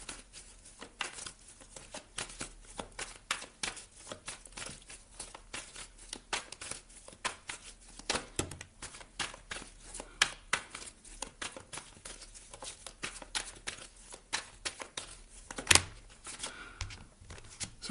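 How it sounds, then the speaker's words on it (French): Tarot cards being shuffled and drawn, with a steady stream of soft, crisp riffling, flicking and slapping close by, running continuously for many seconds with occasional sharper snaps. "Je vais quand même vous tirer deux cartes ici."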